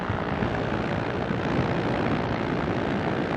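An ultralight aircraft engine roars loud and constant in flight at about 4,000 RPM, with heavy wind rush blended into the dense, unbroken drone.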